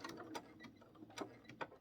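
A sewing machine stitches down the edge of a cloth egg-gathering apron, giving a steady mechanical whir with periodic clacking pulses, moderately close and without talk.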